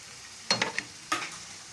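Halved tomatoes drop into sizzling Peshawari Shinwari qeema, producing two bursts of loud crackling hiss with splattering pops, close and unaccompanied by speech.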